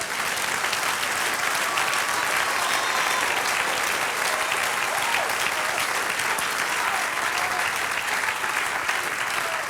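A church congregation applauds during a sermon, a thick, continuous roar of clapping that stays loud and steady throughout without a break.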